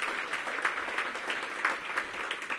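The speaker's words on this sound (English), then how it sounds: "Give Bua a big round of applause" An audience at a Washington, DC mayoral housing event gives a round of applause, a steady, dense patter of many hands clapping that holds evenly throughout.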